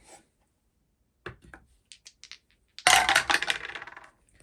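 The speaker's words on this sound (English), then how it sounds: "Still rolling 2 dice." Two dice are shaken and rolled for a board game: a few light clicks and knocks, then a bright rattling tumble that clatters to a stop on the table, with no talking.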